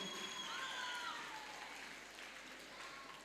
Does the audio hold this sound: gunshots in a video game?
no